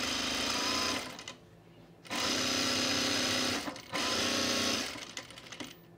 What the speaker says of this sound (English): I am trying to sew at a 3/8 inch seam, and it's not happening.